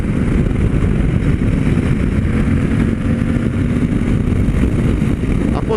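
A Suzuki V-Strom 800 motorcycle pulls hard in sixth gear, its engine a loud, continuous drone mixed with heavy wind rush, close and unbroken from start to finish.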